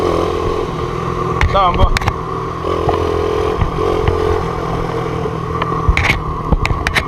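An MBK 51 Magnum moped rides off-road, its small two-stroke engine buzzing unevenly with clatter and scraping from the rough ground, while someone talks briefly over it.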